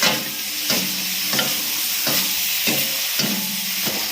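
Kale and pork stir-fried in a hot pan, with steady loud sizzling broken by regular scraping tosses roughly every half second to second, close-up and without voices.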